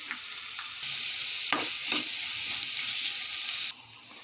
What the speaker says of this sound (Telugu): ఇప్పుడు కట్ చేసుకున్న దోసకాయలు వేసుకుందాము. ఇవి కూడా ఆయిల్లో బాగా మగ్గాలండి.